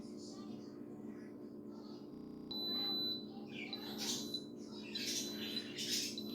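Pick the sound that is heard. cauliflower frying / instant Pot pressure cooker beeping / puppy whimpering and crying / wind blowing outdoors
instant Pot pressure cooker beeping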